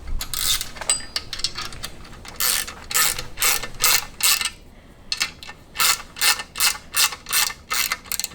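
A ratchet clicks in quick bursts, tightening the rear axle bolts on a Moser Engineering Fab9 rear end. The short, rhythmic ratcheting is heard up close with pauses between the runs and no talking.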